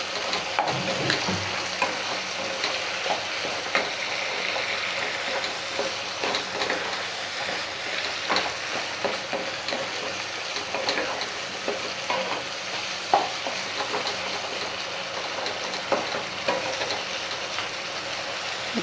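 Potato, papaya and ginger pieces fry in a pan while being stirred, a soft, continuous sizzle with scattered scrapes and clinks of the spoon. No one speaks.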